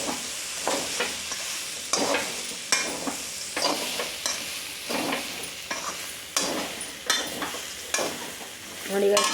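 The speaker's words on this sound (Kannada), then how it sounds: "ಚೆನ್ನಾಗಿ ಫ್ರೈ ಮಾಡ್ಕೋಬೇಕ್ರಿ ಗೈಸ್" Cauliflower (gobi) pieces frying in a pan at home for gobi rice, with steady sizzling and repeated scraping stirs at close range, no voices.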